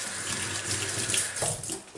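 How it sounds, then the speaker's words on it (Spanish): Tap water runs steadily into a kitchen sink while dishes are rinsed, a close, continuous splashing rush for the whole stretch. "Pues mira, voy a ir enjuagando para que veáis."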